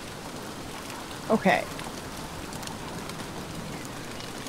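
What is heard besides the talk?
rain falling in the video game Don't Starve Together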